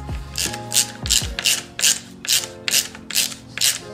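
Ratchet wrench snugging down handguard bolts on a Honda CRF450R supermoto, giving a steady run of close, crisp clicking swings in a regular back-and-forth rhythm, with no voices.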